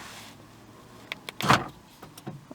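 A door lock actuator on a Honda Civic EP3 fires once to lock the door: a brief, close whirring clunk in the middle, surrounded by a few small clicks in a quiet space.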